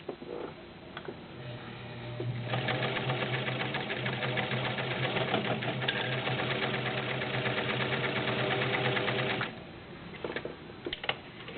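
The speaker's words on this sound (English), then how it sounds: "I'm going to go ahead and sew the denim while it's under the foot." A vintage Kenmore 1752 cam sewing machine stitches through denim, a steady mechanical whir with fast rhythmic needle ticking that runs for several seconds at moderate volume, with quieter clicks of handling before and after.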